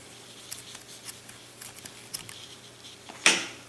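Scissors snip crochet yarn close up, one crisp cut near the end after a few faint handling rustles and small taps; no talking.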